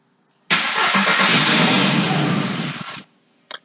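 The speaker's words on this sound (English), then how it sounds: "Got a good turkey gobble on the starter there." A car starter cranks loudly for about two and a half seconds with a rough, gobbling churn, then cuts off abruptly, followed by a short click.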